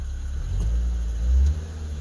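A car engine idles with a low, close rumble, then swells briefly as the throttle is blipped before settling back to idle.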